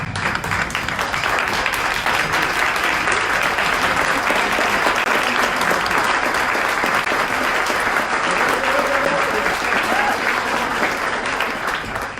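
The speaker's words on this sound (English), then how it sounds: "perhaps we can stand and give a round of applause to Ian" A seated club audience at a Rotary meeting breaks into sustained, dense applause for its new president, loud and steady with many hands clapping together throughout, no speech over it.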